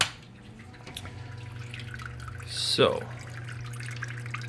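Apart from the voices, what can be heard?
water from a pumped custom vivarium waterfall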